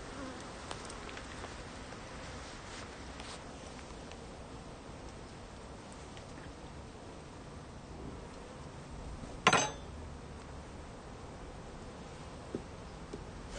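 Honey bees buzz around an opened, propolis-heavy hive during a colony split, a faint steady drone throughout with a brief louder bump near the end.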